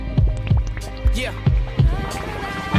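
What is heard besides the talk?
heartbeat sound effect in music track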